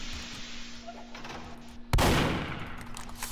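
A single shotgun blast in the Roblox game Darkness, one sharp loud burst followed by a short decaying tail over a steady low hum.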